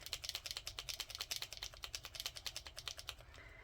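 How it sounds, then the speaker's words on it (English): A Faber-Castell acrylic paint marker is shaken hard, its mixing ball rattling in a fast, steady run of sharp clicks, close up and fairly quiet. "So they say to shake"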